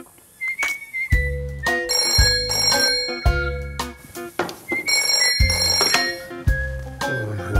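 A telephone rings in loud repeated metallic bursts, two sets of rapid bell trills separated by brief gaps, close and alone without speech.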